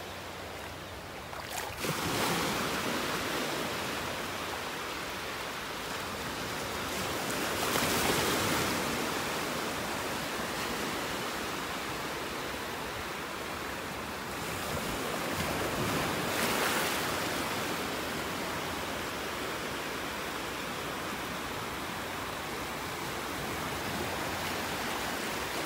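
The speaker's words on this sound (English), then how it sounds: "Just standing out here, just listening to the waves." Ocean waves breaking on a beach in North Naples, Florida, a steady wash of surf with slow swells every several seconds and wind noise mixed in, no voices.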